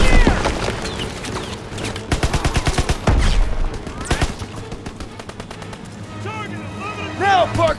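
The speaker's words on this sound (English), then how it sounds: "Gotta suppress the machine gun!" Rapid machine gun bursts from a World War II battlefield in Call of Duty WW2, loud and near, with repeated gunshots and a heavy impact, mixed with shouted voices and battle noise.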